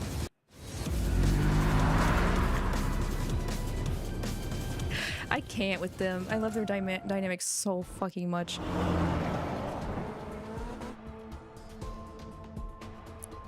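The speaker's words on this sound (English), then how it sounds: "The car emerges from the tunnel and races through the streets of the killing zone." Car engine roaring in a video game as the vehicle races out of a tunnel through city streets, a loud sustained rumble with rising engine tones and whooshes, while a person talks over it.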